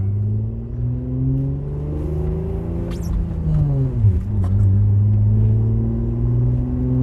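An Acura TL engine runs while driving with a misfire, a loud close droning hum with shifting tones and brief dips as the engine note changes.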